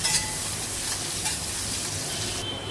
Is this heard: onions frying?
yes